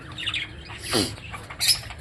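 A pied budgerigar gives short squawky chirps and a rising screech, close and fairly loud over a faint steady background hiss.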